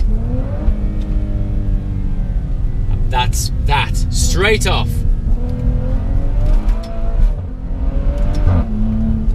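The engine of a Maserati Levante SUV revs from inside the cabin with a deep, steady drone and a few sharp bursts of rising revs, while someone talks over it.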